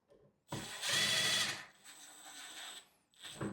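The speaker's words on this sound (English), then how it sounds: "I'm using the drill." A power drill whirs in two bursts, driving a screw into a door key lock with a rising whine, then a short pause and another brief spin; close and loud.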